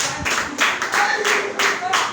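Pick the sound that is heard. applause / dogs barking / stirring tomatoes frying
applause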